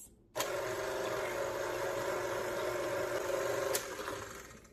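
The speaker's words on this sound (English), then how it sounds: "I have had this KitchenAid mixer for 21 years and it's still going strong." A KitchenAid stand mixer kneading bread dough switches on abruptly and hums at a steady motor whine with a faint rhythmic mechanical churn, close and alone, then winds down near the end.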